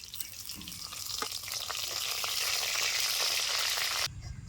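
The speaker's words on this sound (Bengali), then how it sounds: "তেল গরম হয়ে গেছে পুরনো দিয়ে দিচ্ছি গোটা জিরা দিয়ে দিচ্ছি তেজপাতা" Whole cumin seeds and bay leaf sizzle in hot mustard oil in a kadai, a steady bright hiss with small pops that swells slightly before cutting off abruptly near the end.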